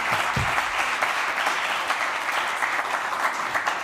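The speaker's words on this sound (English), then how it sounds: "I think Julia deserves an applause" A conference audience applauds, with dense, sustained clapping from many hands filling the room at an even level from start to finish.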